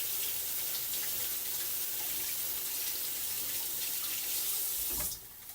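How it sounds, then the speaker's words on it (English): Hands are washed under a running kitchen tap, a steady loud hiss of flowing water that continues for several seconds before cutting off abruptly near the end, with no talking. "Let me do a little wash of the hands"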